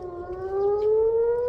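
Air raid warning siren sounding in Israel during an attack, a loud steady wail with a slowly rising pitch, continuous and alone with no talking.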